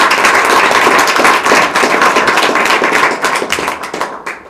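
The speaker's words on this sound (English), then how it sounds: "can I just give Nick a round of applause?" A lecture audience gives a round of applause for a presenter at a user research lunchtime talk: dense, steady clapping from many hands, loud and close, fading slightly at the end.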